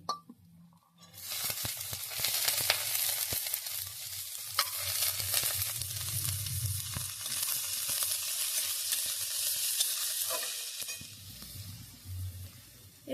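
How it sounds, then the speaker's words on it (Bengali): Mixed vegetables hitting hot mustard oil in a kadai after fried garlic and onion, a loud, sustained sizzle with intermittent stirring scrapes and clatter, close up and without talk. "রসুন আর পেঁয়াজ ভাজা হয়ে গেছে এরপর সব সবজিগুলো আমি দিয়ে দিচ্ছি"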